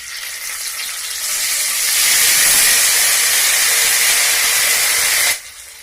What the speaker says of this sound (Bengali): আদা আর জিরে বেটে রেখেছিলাম সেটা দিয়ে দেব।